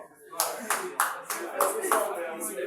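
A handful of people clap at an academic degree ceremony, several distinct nearby claps in a loose rhythm, with a voice talking over them.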